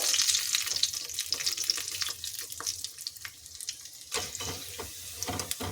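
Avarekalu and urad dal pakoda deep-frying on a low flame, a steady broadband sizzle and crackle of oil with occasional stirring clinks, close and continuous with no talk.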